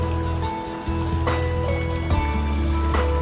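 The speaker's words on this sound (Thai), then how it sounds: "ฟังเสียงน้ำไหล" Steady rushing of stream water flowing over rocks at Khiriwong village, Lan Saka, Thailand, close and continuous, with occasional small splashes.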